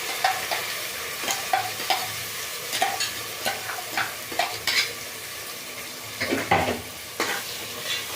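Ground masala sizzling in hot oil over fried onions for tomato bath, with repeated spoon scrapes and stirring strokes at an uneven rhythm, close and fairly loud, no voices.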